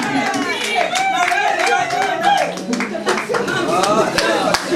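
Guests at a birthday party clap in a steady round as the cake is cut, the applause mixing with a voice speaking over it and light chuckles close by.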